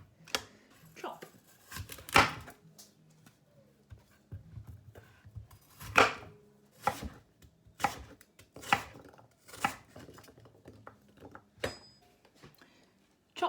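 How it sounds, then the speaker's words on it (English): A knife chops apples on a board, an irregular run of sharp close thunks about a second apart, with quiet speech in the gaps. "Chopped apple."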